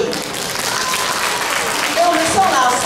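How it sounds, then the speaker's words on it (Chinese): Dense, steady applause from an audience at a community concert of Chinese traditional music and drum ensembles, filling the whole stretch at close range with no pause. "掌声鼓励"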